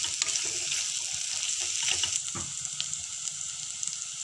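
Green chilies being stirred and fried in a pan for vegetable dum biryani, giving a steady close sizzle with light scraping strokes of stirring throughout, and no talking.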